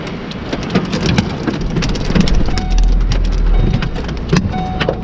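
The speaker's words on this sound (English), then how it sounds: "Oh my God, that's hail." Hail and rain pelt a car during a thunderstorm on a country drive, a dense steady patter of hard hits with a low rumble of wind and distant thunder swelling midway.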